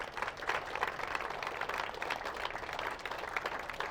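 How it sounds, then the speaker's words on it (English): An outdoor crowd at a Washington City trailhead ribbon cutting applauds the city council, a continuous, moderately distant patter of clapping that stays even for several seconds. "Give them a round of applause"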